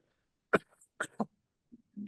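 Three quick, close coughs in a short cluster, the last two back to back, followed by a soft throaty sound.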